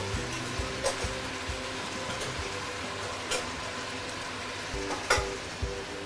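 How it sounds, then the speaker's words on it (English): Pork leg stew sizzling and being stirred in a pan as dark soy sauce goes in, a continuous close frying hiss with occasional sharp scrapes of the utensil. "Okay, then I'm going to give it some dark soy sauce."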